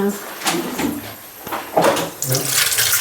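Tap water runs in irregular splashing bursts as hands are washed in a home kitchen while tandoori chicken is being prepared, with a voice talking over the sound.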